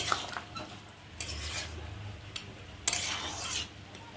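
A spoon scrapes and stirs sukto vegetables with bori (lentil dumplings) in a pot, in a few soft, intermittent strokes, fairly quiet and close, with no talk.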